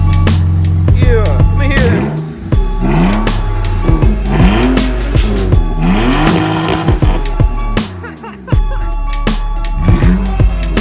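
Loud drift car with its muffler removed, raw engine revving up and down in repeated rising sweeps with sharp pops and crackles, close and aggressive throughout.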